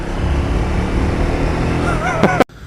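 A Triumph Speed 400 motorcycle riding through a tunnel, its steady engine roar and wind rumble loud and enclosed, with a brief whistling flutter near the end before the sound cuts off abruptly.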